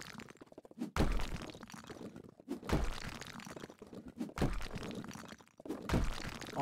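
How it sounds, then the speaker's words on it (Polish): Heavy, crunching impacts strike at a steady pace, about four big smashes of breaking debris, loud and close, as a sledgehammer knocks down a wall in House Flipper. "to musimy ścianę wyburzyć całą. Mamy młota?"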